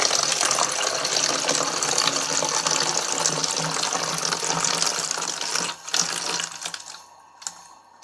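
Ordinary tap water pours steadily into a half-full container, a broad continuous gushing and splashing that fades and breaks off near the end with a few brief drips.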